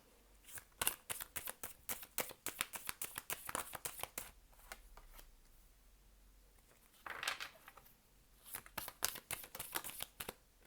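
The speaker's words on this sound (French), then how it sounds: "je trie un peu les cartes" Cards being sorted and shuffled by hand during an intuitive card reading, with bursts of quick riffling and flicking, a quiet pause, then more handling close up and no talking.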